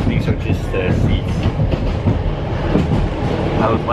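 Riding inside a train carriage brings a loud, steady rumble with rhythmic wheel clatter over the rails, and voices talk faintly in the background throughout.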